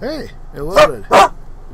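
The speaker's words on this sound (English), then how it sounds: "Pardon the dog. She's barking over nothing." A pet dog barks indoors, two loud sharp barks following a brief whine, close to the listener, while a person speaks briefly nearby.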